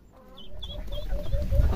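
A mother hen, just released from her chicks, clucks in a short run of soft, rising calls that grow louder over a low background rumble.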